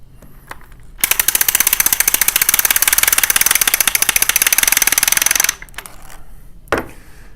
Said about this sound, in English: So we're going to go ahead and wind this up.